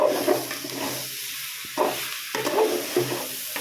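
Drumstick greens being stirred and fried in a pan, with a steady soft sizzle broken by a few scraping stirs of the utensil, close and fairly quiet, no voices.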